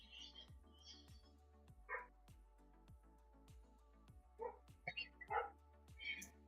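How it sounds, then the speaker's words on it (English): A dog barks in short, sharp yips several times, scattered through the background of an online tabletop role-play game session, with faint clicks and hum in the room. "so we don't have to hear the dog."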